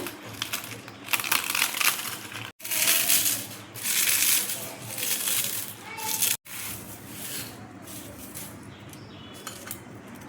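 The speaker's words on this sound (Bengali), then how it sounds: "এবার দেখো পাঁপড়গুলো আমি গুঁড়ো করে নিচ্ছি।" Dry-roasted papad is crushed by hand, giving close, crackly crunching in long bursts broken by brief pauses.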